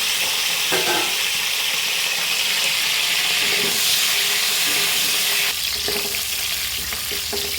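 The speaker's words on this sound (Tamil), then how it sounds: "இப்போ நம்ம எடுத்து வச்சுருக்க கத்திரிக்காயை போட்டு ஃபஸ்ட்டு வதக்கி எடுத்துக்குவோம்." Eggplant pieces fry and get stirred in hot oil in a kadai for brinjal thokku, a steady loud sizzle with occasional scraping stirs throughout.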